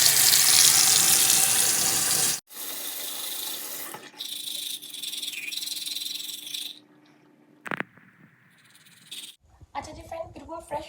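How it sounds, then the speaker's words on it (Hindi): A bathroom sink tap gushes loudly for a couple of seconds during face washing and tooth brushing, then gives way to quieter splashes, light scrubbing and small clinks near the basin. "ब्रश कर लिया है और फेस भी वॉश कर लिया है"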